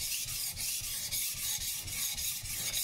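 A Global kitchen knife is sharpened at a steady 15-degree edge angle, giving close, rhythmic rasping strokes that repeat evenly about every quarter second with no talking.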